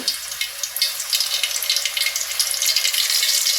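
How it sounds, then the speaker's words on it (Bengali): Onion paste frying in hot oil inside a pan of beef tripe, a steady close sizzle and crackle with no talk over it. "তেল আছে এখন এখানে আমি দিয়ে দিব হচ্ছে টেবিল চামচের দুই চামচ পেঁয়াজ বাটা"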